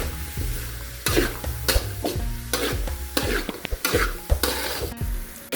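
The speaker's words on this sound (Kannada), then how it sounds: "ಅಲ್ಲೊಂದು ಸ್ವಲ್ಪ ಎಣ್ಣೆ ಹಾಕಿ ಚೆಂದಾಗಿ ಹುರ್ಕೋತೀವಿ." Masala roasting in a little oil while a spatula stirs it: a steady sizzle broken by repeated loud, rhythmic scrapes against the pan, close and clear, with no talking.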